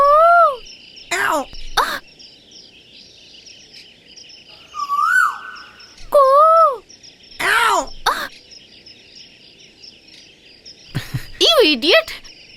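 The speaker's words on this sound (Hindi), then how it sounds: "कोयल के साथ कूक रही है।" Bird calls ring out among trees, rising whistled notes in short bursts separated by quiet gaps, over a steady high insect-like drone, with a few sharp harsher calls near the end.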